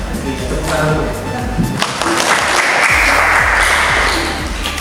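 An audience at a talk show with a regional senator claps: a voice talks at first, then broadband applause swells and holds steady to the end.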